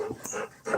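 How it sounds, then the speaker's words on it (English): Dogs pant and whimper close by in a short, busy burst of breathy, whiny noise. "Damn dogs."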